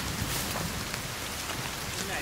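Steady, dense rain hissing and pattering on surfaces in a forest survival video game, a constant wash of drops with faint low rumble beneath.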